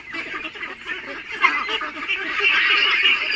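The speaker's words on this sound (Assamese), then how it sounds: "এইবোৰ লোকেল পাতি হাঁহ, এইবোৰ মোটামুটি 2 মাহমান পাৰ হৈছে।" Young local ducks about two months old quack and honk in a steady, busy chatter that swells louder toward the end, close by with no talk over them.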